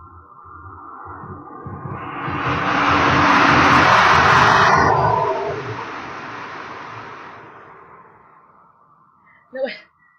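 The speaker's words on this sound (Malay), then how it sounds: "Bunyi kereta api laluan sebentar." A train passes beside a roadside setting, its roar swelling over a few seconds to a loud peak and then fading steadily, followed by a brief sharp knock near the end.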